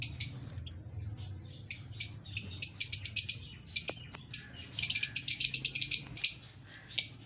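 Parrots in a home garden give rapid, shrill chirps and calls in quick clusters, fairly close, over a soft low background hum.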